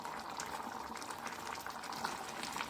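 Pineapple simmering in a pot with jaggery gives a steady, soft bubbling hiss that runs unbroken and fairly faint, with no voices over it.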